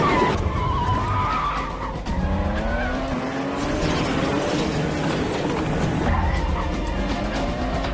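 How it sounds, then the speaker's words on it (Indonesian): A car speeds through a movie chase with tires squealing and skidding, loud and continuous over an engine roar, the squeal rising and wavering throughout, mixed with busy background action sounds. "sehingga Michael melaju kencang mobilnya untuk menghindari daripada mereka."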